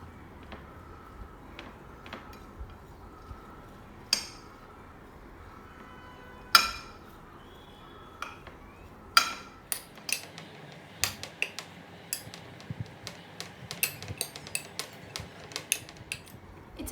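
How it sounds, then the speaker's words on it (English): Carrot garlic pickle ingredients, with chili powder and salt, being mixed in a bowl: a quiet scraping background broken by sharp metallic clinks of a spoon against the dish, sparse at first and then quicker and more frequent. "So now we'll mix all the ingredients until well combined."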